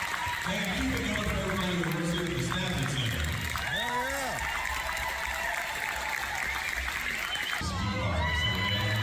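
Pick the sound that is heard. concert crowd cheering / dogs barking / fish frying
concert crowd cheering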